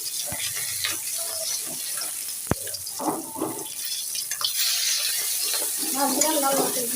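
Fish frying in a pan give off a steady, close sizzle and hiss, broken by a sharp clink and scraping as the pieces are turned over. Faint voices murmur now and then.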